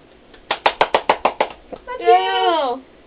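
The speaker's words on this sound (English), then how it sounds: "Gotta clap for Mitchell." Hands clap together about seven times in a quick, even rhythm, close and clear, followed by a voice rising in a drawn-out, sing-song vocalization.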